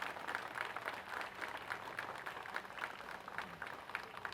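Audience applause for Sunil Rane at a sports complex inauguration in Borivali, a steady patter of clapping heard faint and distant throughout.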